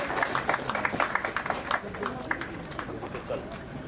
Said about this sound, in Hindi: तालियां हो आपकी तरफ से।